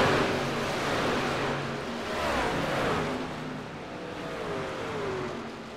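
NASCAR trucks racing at Daytona in the iRacing simulator, a continuous loud, dense roar of engines in a pack with rising and falling pitch as they draft, steady and unbroken with no speech.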